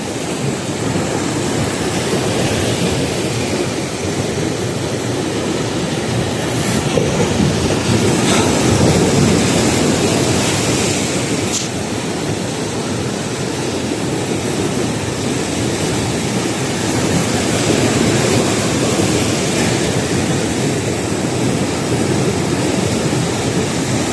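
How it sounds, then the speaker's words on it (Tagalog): Strong ocean surf pounds at a fishing spot, a continuous loud roar of breaking waves and rushing water with no voices, swelling slightly now and then. "Grabe, ang lakas ng alon,"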